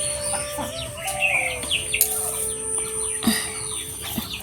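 Laying hens cluck in short, scattered bursts amid chirping birds, with a faint rooster crow and a high steady background tone.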